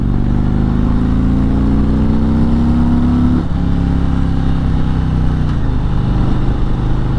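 Stock-exhaust Harley-Davidson Road Glide motorcycle pulling hard in third gear, a loud, steady low engine drone rising in pitch, briefly dipping at a shift or throttle change before droning on, heard up close with no talking.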